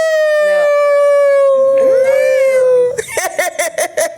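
A person imitates a wolf howl, one long sustained vocal wail that bends upward, followed by a burst of laughter and chatter from a small group.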